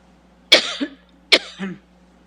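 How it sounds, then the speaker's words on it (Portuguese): Two sharp coughs close to the microphone during a plenary meeting, about a second apart, each trailing into a short throaty rasp, with quiet room hum between. "como parece que vou começar a tossir"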